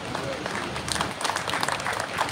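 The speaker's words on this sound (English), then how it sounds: "I think that deserves a round of applause." Audience applause at the opening of the Indonesia Mini Expo 2023: a dense burst of clapping from a crowd, steady and moderately loud, with a few voices mixed in.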